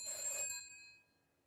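A telephone bell rings once, faint and distant, then fades into near silence.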